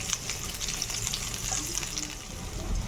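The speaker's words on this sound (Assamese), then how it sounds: "ইয়াতে পিঁয়াজ দি দিলোঁ। পিঁয়াজখিনি ৰঙা হোৱালৈ ভাজি ল'ম।" Onions sizzle and crackle in hot oil, a steady close frying hiss with small pops throughout.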